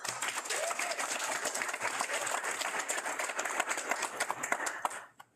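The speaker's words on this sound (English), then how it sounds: "please give a round of applause for all of the leadership and directors joining us today" An indoor audience applauds conservation district leaders and directors at a proclamation signing, a dense, steady crowd of clapping that holds at full strength before cutting off.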